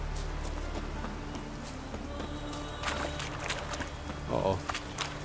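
Horse hooves clip-clopping in The Witcher 3: Wild Hunt, a faint rhythmic trot under ambient forest game sound, with someone talking over it.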